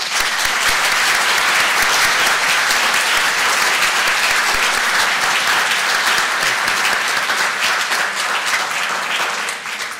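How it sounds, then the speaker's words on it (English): Loud, dense audience applause after a panel discussion at a university art gallery, a continuous sustained wash of many hands clapping that holds steady for about ten seconds before tapering slightly at the end. "how about a round of applause for..."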